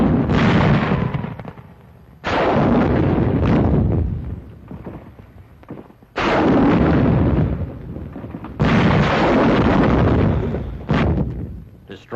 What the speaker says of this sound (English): Bazookas fire on Jap tunnel positions at hill number 1.